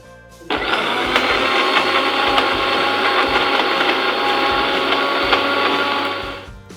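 A blender whirs loudly and steadily for several seconds as it mixes a Kerala-style dry fruit smoothie with Boost, starting abruptly and running at an even, close-up roar with slight rhythmic variations.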